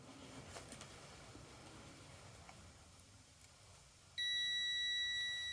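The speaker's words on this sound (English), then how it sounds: "it was beeping. So that's a way to tell that there's continuity through a circuit" Quiet room hiss, then a sudden steady electronic beep from a multimeter continuity test starts near the end and holds at a constant pitch.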